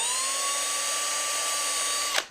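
A power drill whines steadily at high speed while boring holes in a plastic Makita drill box, holding one continuous tone before spinning down abruptly at the end, close and loud with no talking.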